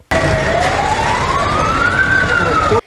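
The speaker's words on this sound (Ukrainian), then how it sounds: "За кілька хвилин чути сирени пожежних машин." Fire engine sirens wail loudly with a slow rising and falling tone, continuous throughout, close by and dominating over rumbling traffic noise, in Volyn, Ukraine.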